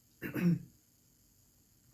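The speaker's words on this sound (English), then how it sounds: "I'm sorry, I'm coughing." One short, muffled cough in a quiet room, followed by near silence.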